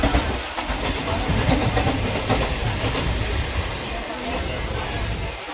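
A moving passenger train rolls along, heard from inside a crowded general coach on a Mumbai route, with a continuous rattling rumble and rhythmic wheel clatter throughout, with no clear talk.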